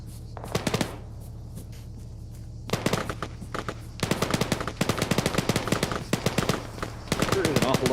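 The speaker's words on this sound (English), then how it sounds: "There is an awful lot of fire. What are you guys shooting at?" Automatic gunfire in an ARMA match, rapid bursts of near shots in clusters separated by brief pauses, with a low steady hum underneath and voices talking over it.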